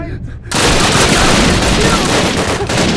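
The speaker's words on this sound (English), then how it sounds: "They're shooting me!" Dense gunfire in the Call of Duty video game, at the Brecourt Manor battle: a sudden loud onset that becomes a continuous roar of overlapping shots and rapid bursts, sustained close and heavy to the end.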